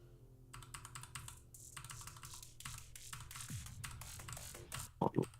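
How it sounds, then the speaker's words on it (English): Rapid clattering keystrokes on a mechanical computer keyboard, close and fairly loud, in uneven bursts with brief pauses, ending in a couple of sharper clacks. "I think I have a mechanical keyboard actually"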